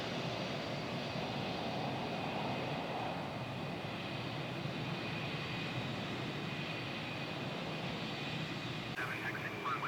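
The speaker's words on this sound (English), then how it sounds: "Triple seven taxiing by." A Boeing 777 taxis past at New York's JFK airport in Microsoft Flight Simulator 2020, a steady, loud jet engine roar and whine that holds constant throughout.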